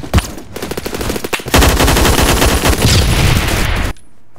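Sustained automatic gunfire in the video game Phantom Forces, in a subway station map: dense, loud bursts of rapid shots running almost continuously for about four seconds before cutting off sharply.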